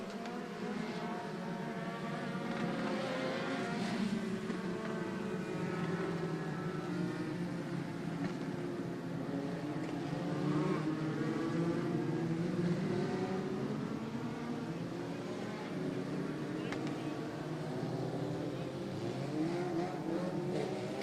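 Race cars at Maquoketa Speedway circle the track under caution, a steady broad engine drone with shifting pitch as several cars pass at moderate distance, continuous throughout with no talk.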